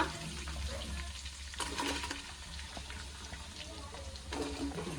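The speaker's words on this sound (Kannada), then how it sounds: "ಫ್ರೈ ಮಾಡ್ಕೊಳ್ಳಿ, ಆನಿಯನ್ ಎಲ್ಲ ಚೆನ್ನಾಗಿ ಬೇಯಬೇಕು" Onions fry in a pan for mutton biryani, a low sizzle with occasional stirring bursts and a faint background hum.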